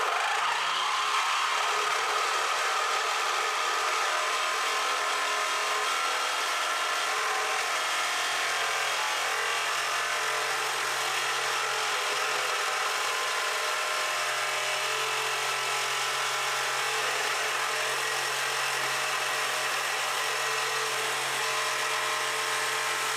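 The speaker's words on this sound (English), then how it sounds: "We're going to do the same destruction test that we performed on the aftermarket bumper offering as we did before." A Sawzall reciprocating saw with a new blade cuts through a 2008 Ford Focus aftermarket bumper beam, a continuous harsh buzzing rasp that holds steady and loud throughout.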